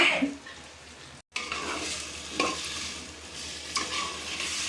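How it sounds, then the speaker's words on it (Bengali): Chopped onion, green chili and coriander hit hot oil with a sustained bright sizzle, while a spoon or spatula stirs and scrapes in the pan throughout, close and continuous. "এখন আমি তেলের মধ্যে এগুলো দিই"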